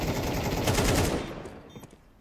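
Gunfire in the game Counter-Strike, a fast burst of rapid automatic shots that rattle loudly for about a second before trailing off.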